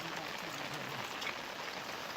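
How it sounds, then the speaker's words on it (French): Steady rain in Nepal patters down in a dense, even hiss, with no voices, for a couple of seconds. "Et la pluie arrive."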